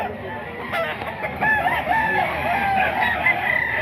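A rooster crows and chickens cluck nearby at a busy market stall where poultry is for sale, with crowd noise beneath.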